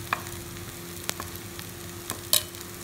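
Ground spices such as coriander, chilli, turmeric and garam masala for a jackfruit curry being stirred and roasted in a pan, with a soft steady sizzle, a few sharp scrapes and clinks of the spoon, and no talk.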